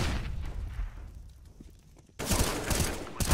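Gunfire from an esports first-person shooter match: a burst of shots at the start, a quieter stretch, then a dense, loud fusillade of rapid shots and impacts through the second half, with no talk.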